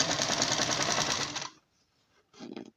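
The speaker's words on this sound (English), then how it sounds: "it's so difficult to stitch with the cushion already inside of the bag" Sewing machine stitching an outdoor cushion cover with the cushion still inside, a loud close rapid whirring run that stops abruptly, then a brief short burst of stitching.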